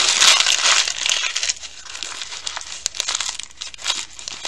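Paper or wrapping material crumpled by hand into a ball to shape an Easter candy nest, loud close crinkling and crackling that rises and falls in bursts for a few seconds.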